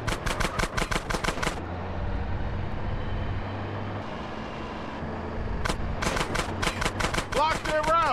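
Rapid gunshots in a GTA San Andreas petrol tanker mission, rhythmic bursts at start and end separated by a stretch of truck engine rumble, with characters talking over the action.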